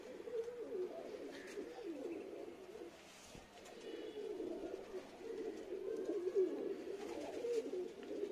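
Punjabi and Madrasi pigeons, a group of birds for sale, coo steadily and continuously at close range, soft layered throaty rolling calls without talk.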